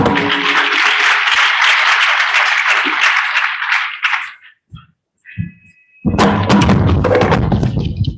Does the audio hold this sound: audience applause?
yes